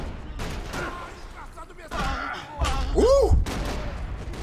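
Gunfire in the Max Payne video game, a burst of rapid shots and thuds over busy game sound, with a man exclaiming loudly in the middle.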